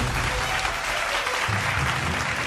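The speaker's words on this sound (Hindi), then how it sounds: "जोरदार तालियां बजती रहनी चाहिए उनके लिए" Audience applause at a bhajan singing competition audition, a dense burst of steady clapping from a crowd filling the hall throughout.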